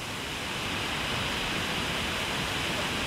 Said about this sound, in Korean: (68m의) 높이에서 떨어지는 비룡 폭포의 우렁찬 울음소리로